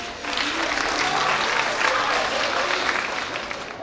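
Audience applause at a festive institute celebration day, honoring a contest participant who receives an anniversary t-shirt; steady, dense clapping from a crowd that holds level for several seconds.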